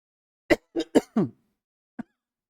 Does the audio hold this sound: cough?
yes